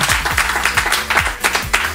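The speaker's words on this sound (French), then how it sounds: "On applaudit à nouveau Jérémy qui a une victoire." Studio audience applauding a contestant on a French television quiz show, a short burst of brisk, fairly loud clapping.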